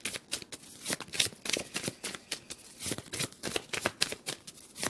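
A deck of Lenormand oracle cards is shuffled by hand close up, making a continuous run of rapid papery riffles and flicks in uneven bursts for several seconds, with no talking.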